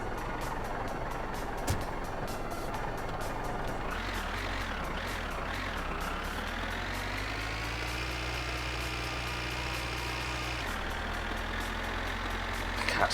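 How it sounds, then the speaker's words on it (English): A tractor in the video game My Winter Car, its engine drone rising in pitch as it revs and holding a steady, buzzing tone, with rapid repeating beeps pulsing over it throughout. "The tractor noise is killing me."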